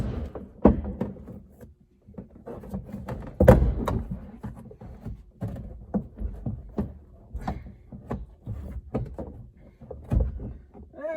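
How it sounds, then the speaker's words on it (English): Jeep door panel being worked loose after its Phillips screws are out: a run of close, irregular thumps, knocks and taps, with one heavier thud among them. "getting the door panel to come loose."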